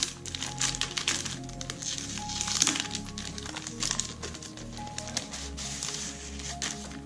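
A thick, flexible plastic mixed-media stencil is taken out and handled close by, giving soft crinkling and light tapping rustles throughout, fairly quiet and with no talk.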